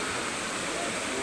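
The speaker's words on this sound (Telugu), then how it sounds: "నీళ్ళు ఎంత బాగా పోతున్నాయి. చూడండి" Water rushing and flowing: a steady, dense roar of fast-moving water, loud and unbroken throughout.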